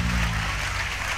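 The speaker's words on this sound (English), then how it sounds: "Can you clap for Jesus?" Congregation in church applauding during a lively service, a dense, loud wash of clapping that stays even throughout with a low hum underneath.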